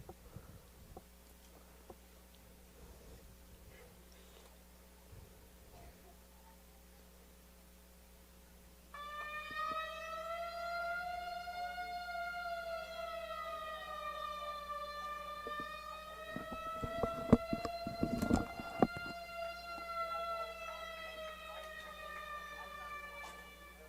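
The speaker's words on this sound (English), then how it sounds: "As you all probably heard, there's a siren going off." A wavering siren rises and falls from afar, heard partway through and then sustained, during an outdoor high school varsity soccer game, with crowd noise and a few sharp knocks underneath.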